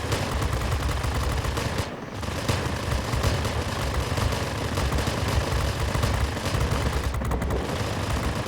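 XF-85 Goblin machine guns firing in World of Warplanes, a loud sustained rattle of rapid gunfire with engine roar underneath, briefly pausing twice before resuming.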